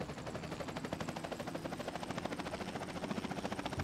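A helicopter flies in the city-building game Workers & Resources, a steady close rotor chop pulsing rapidly and evenly over a broad engine roar.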